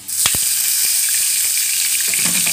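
Harsha dough frying in a pan, a steady loud sizzle with a few scraping stirs near the start.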